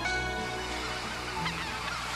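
Wintering white-fronted geese on a lake give repeated nasal honks from a large flock, overlapping calls layered over a steady hum of more distant birds.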